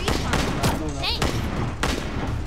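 Rapid bursts of gunfire from a shooter video game crackle densely throughout, loud and close, with a voice talking over the shots.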